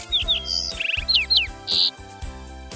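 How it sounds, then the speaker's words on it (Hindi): Short, high bird chirps and tweets come in quick bursts, bright and close, over gentle background music in a children's educational programme. "पक्षी,"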